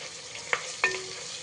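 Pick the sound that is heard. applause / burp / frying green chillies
frying green chillies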